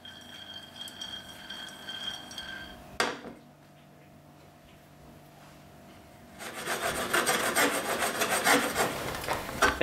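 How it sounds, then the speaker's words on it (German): Pine nuts roast in a hot pan while it is swirled. After a sharp knock and a quiet stretch, a sustained dry rattling and scraping rushes across the pan, close and steady. "Dann unter mehrmaligen Schwenken rösten wir die langsam an."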